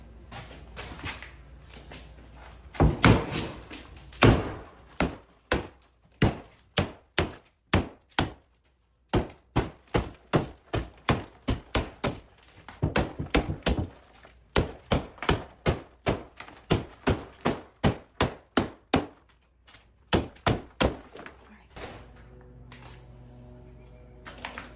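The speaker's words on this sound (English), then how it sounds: "I finally got the sledgehammer." A sledgehammer is swung during home demolition, likely on floors. Heavy thuds land in a steady rhythm, about one blow per half second, in several runs with short pauses between them. The impacts sound close and distinct, with no talking.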